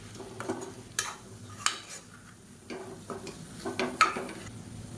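Chili powder sautéed in oil for a kuzhambu, a faint low sizzle under repeated clinks and scrapes of a spoon against the pan, quiet and close with no voices.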